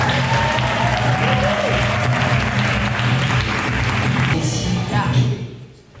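An audience applauds warmly for Claude Lantrope at a lesbian community event: dense, sustained clapping near and loud for about five seconds, then fading out quickly at the end.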